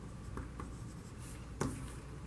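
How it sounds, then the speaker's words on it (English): A marker or pen writes a label and a name onto a cut template part, giving faint, soft scratchy strokes and a sharper tap-like stroke partway through. "And I'm gonna write top and I'm gonna write my name."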